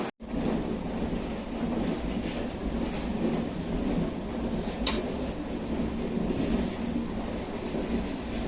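The Purva Express sits at the Dhanbad Junction platform, a steady loud rail rumble with faint wheel and carriage clatter running continuously, and no talk.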